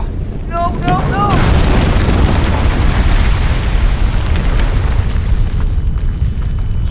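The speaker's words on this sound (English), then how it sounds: "Flashbang number 2." A flashbang goes off with a loud, close blast after a brief chirping tone, then a dense roaring rumble that holds steady for several seconds.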